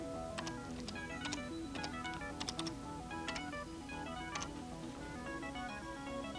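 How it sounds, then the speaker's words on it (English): Keys clack on a 1983 home computer keyboard in short irregular bursts, faint and close, layered over steady background music or hum with no talking. "Type catalog and you'll see."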